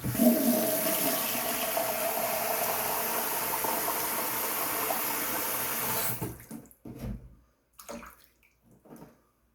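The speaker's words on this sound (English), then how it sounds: "Let me empty out this water basin, guys. Fill it up again." Water runs steadily into a shaving basin for about six seconds as it is emptied and refilled after a head and face shave, then stops, leaving a few short splashes and drips.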